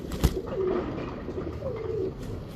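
A pigeon at a fancier's loft coos softly in low, rolling phrases, two or three calls over a light background hiss, with a brief thump near the start.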